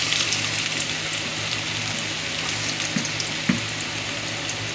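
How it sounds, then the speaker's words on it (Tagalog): Ginger hits hot oil in a pan for a Bicol Express sauté, giving a steady, moderate sizzle with a couple of small clinks and no talk. "Umpisahan na po natin maggisa. Ito, maglalagay na po tayo ng luya."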